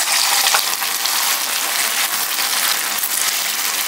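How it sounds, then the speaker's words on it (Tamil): Chicken pieces frying in hot oil in a pan: a constant, close, dense sizzle and crackle that stays loud throughout, with no talk. "எண்ணெய் நல்லா சூடாயிடுச்சு. இப்போ ஒவ்வொரு பீஸாக எடுத்து போட்டுடலாம்."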